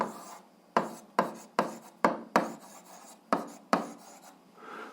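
Pen strokes of someone writing out an algebra solution, a run of about eight quick scratchy strokes in a steady rhythm, close and clear with no talking.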